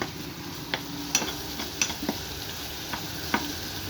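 Onion and garlic cloves frying in a pan for stuffed vine leaves: a soft steady sizzle with scattered light ticks and scrapes of stirring, fairly quiet and close.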